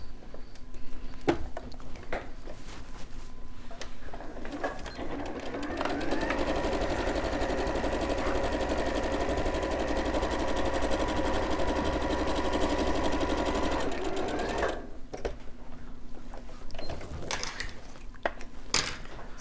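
A sewing machine runs steadily for about ten seconds while stitching a pocket on a simple dress, its motor hum rising and then stopping, with brief quiet talk before and after.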